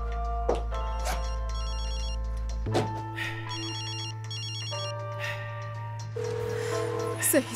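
A mobile phone rings with a repeating melodic ringtone, steady and fairly loud, over a soft music bed, with a few brief clicks and knocks scattered through it.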